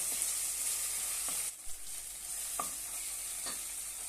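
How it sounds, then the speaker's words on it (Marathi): Finely chopped tomato sautés in hot oil for a potato and field bean curry, giving a continuous hiss with a few soft spoon taps and no speech. "अर्धा टोमॅटो बारीक कट केलेला आहे तो घालूया तेलावर छानपैकी परतून घेऊया"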